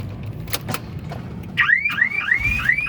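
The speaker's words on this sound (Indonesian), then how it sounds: "Sorry, tadi alarmnya nyala." A 2012 Suzuki APV Arena 1.5 GX car alarm goes off after a few clicks and knocks, then sounds a close, loud series of rising, warbling electronic chirps that repeat rhythmically.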